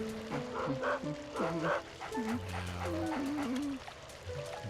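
A dog barking in Luigi's Mansion, a series of short yipping barks and whimpering tones against a trickling ambient game background, with a voice talking faintly underneath.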